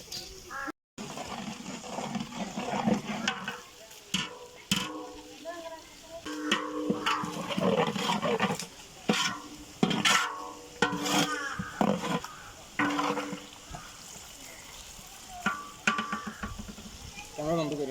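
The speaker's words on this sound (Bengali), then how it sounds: "আলু বাকরা দেওয়া হচ্ছে।" Potatoes and mustard paste are stirred into frying chicken roast in a large wedding-feast pot, with repeated stirring scrapes and a sizzle that rise and fall under lively chatter.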